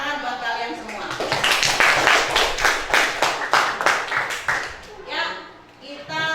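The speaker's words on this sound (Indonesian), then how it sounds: "Tepuk tangan buat kalian semua" Ninth-grade students in a classroom break into a loud, rhythmic round of clapping that swells, then fades, with voices speaking before and after.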